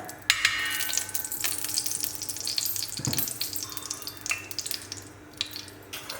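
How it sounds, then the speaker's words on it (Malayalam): Ghee poured into a hot heavy pan over a gas flame for chicken curry, a soft, steady crackling sizzle with a brief louder spatter near the start. "ഒരു 3 ടീസ്പൂണ് നെയ്യ് ഒഴിച്ചു കൊടുക്കുന്നുണ്ട് കേട്ടോ."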